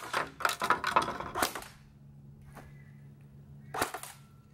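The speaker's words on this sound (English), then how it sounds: "I'm just gonna go do a little single shot fire." Single gunshots fired one at a time, two or three sharp loud cracks in the first seconds, then a quieter gap and one more crack near the end, with a steady low hum underneath.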